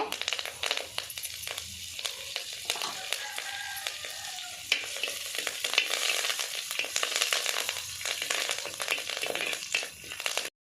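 A couple of sprigs of curry leaves hit hot oil for cucumber chutney, crackling and spitting in a busy, close sizzle with scattered pops and stirring clatter, with no voices.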